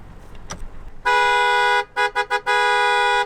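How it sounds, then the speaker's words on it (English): A big pickup truck's horn blares loud and close, one long blast followed by several short choppy toots and another sustained honk, after a brief quiet outdoor moment. "FLAIR, I see you got a new truck. Is there a horn on that thing? There is a horn."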